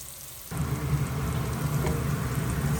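Onions frying on high flame in a pan, stirred as they turn golden: after a half-second lull, a loud, steady close-up sizzle starts abruptly and holds with no voice over it.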